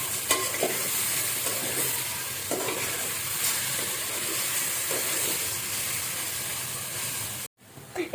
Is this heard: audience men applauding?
no